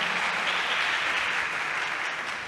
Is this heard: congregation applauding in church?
yes